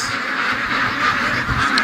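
A flock of ducks quacks loudly and continuously in the early morning, a dense overlapping chorus heard up close with no talking.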